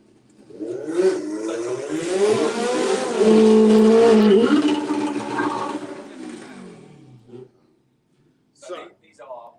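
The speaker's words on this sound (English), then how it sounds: "this is heads up drag racing" Track cars drag racing head to head at Santa Pod in a sports compact shootout: a loud engine climbs in pitch through a long rev, then cuts off, followed by a few short distant engine bursts.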